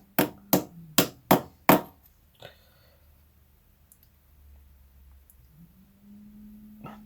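Five sharp metal taps ring out in quick succession as titanium, bronze and malachite ring parts are tapped together, close and loud, followed by quiet room tone and a low hum.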